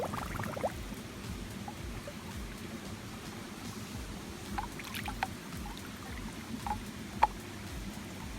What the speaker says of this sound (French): En train de faire bouillir de l'eau pour mon repas de ce soir.